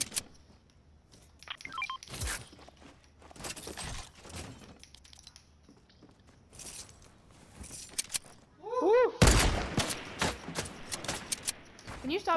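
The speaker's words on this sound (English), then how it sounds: "Can you stop shooting at me?" Gunfire in the video game Fortnite: several sharp, loud broadband bursts and crackling shots at irregular intervals, with a louder volley near the end, while players talk over them.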